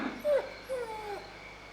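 Dog whimpering in a barn, a few short high whines with rising and falling pitch, fairly close and soft, alone without talk.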